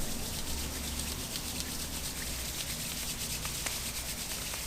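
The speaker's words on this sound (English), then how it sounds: "go ahead and begin by rubbing your palms together." Palms rubbed briskly together to warm the hands, a continuous close, broadband swishing friction with faint rhythmic strokes and no pauses.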